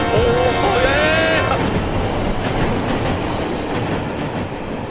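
A train in the game Last Stop rumbles past loudly and steadily, with a brief whistle-like squeal near the start and a constant heavy roar throughout.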